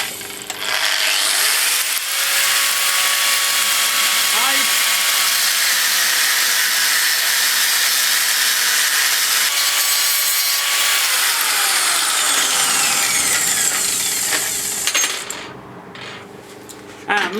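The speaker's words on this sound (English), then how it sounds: "So I'll cut these off first and then I'll bend them." A hacksaw cuts steel horseshoe pieces clamped in a vise, a loud continuous rasp of steady strokes that carries on for several seconds before tapering off near the end.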